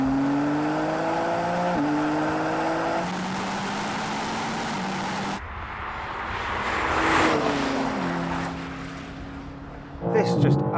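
A BMW M4 CS accelerating hard in a drag race, its engine note climbing through several quick upshifts before fading, then a burst of another engine near the end, with some talk over it.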